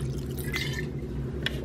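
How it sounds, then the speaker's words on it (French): Pastis is poured into a salmon pie filling of cream and shallot, a brief, quiet liquid trickle with a few soft drips over a low background, heard close with no talk. "Je verse ensuite le pastis."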